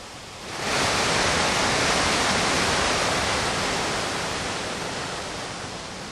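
The waterfall at High Force roars as a dense, continuous broadband rush that swells in within the first second and then holds loud and steady, alone without voices.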